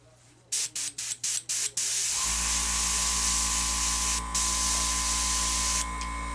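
An airbrush sprays thinned white and gray paint on a dummy, first in five quick clicking bursts, then as a long continuous loud hiss with a steady compressor hum underneath and a few brief breaks.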